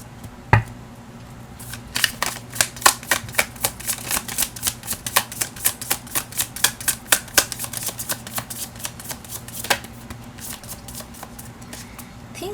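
Tarot cards are shuffled by hand in a long run of quick, crisp riffling clicks, close and fairly soft, preceded by one sharp tap.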